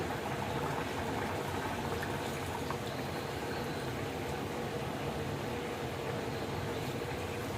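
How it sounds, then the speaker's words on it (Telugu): Tamarind water poured into a pot of simmering small fish curry, a steady bubbling, sizzling wash of liquid held close and even throughout with no pause. "చింతపండు పులుపు అయితే పోసేస్తున్నానండి నేను"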